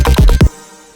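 A short synth fill in an electronic track, heading into the second drop: three quick punchy hits in half a second, then a soft fading tail with nothing else playing.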